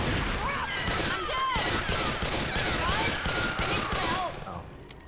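Rapid gunfire in Left 4 Dead 2 aimed at the Witch, a dense, continuous volley of shots that fades near the end, with game voices and shouts mixed in.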